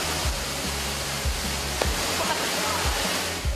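A waterfall at a cliff jumping spot near Purwokerto in Banyumas, Central Java, gives a steady, loud, broadband rush of falling water that holds even throughout, with a few soft low thumps underneath.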